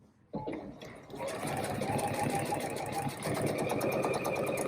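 A sewing machine stitches a seam on men's slacks, starting after a brief quiet moment into a fast steady mechanical whir and rapid needle clatter, close and continuous, with a slight change in speed partway through.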